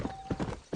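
A brief run of horse hoofbeats in Red Dead Redemption, a few clip-clop strikes close by in a quick uneven rhythm, heard alone without talk.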